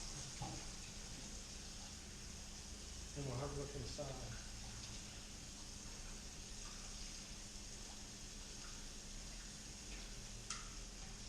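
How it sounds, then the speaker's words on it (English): Tap water pours steadily over a pressure cooker in a kitchen sink to cool it, a constant hissing rush with a few clinks, and a voice talks briefly over it. "I will cool this under the faucet until the pressure comes off."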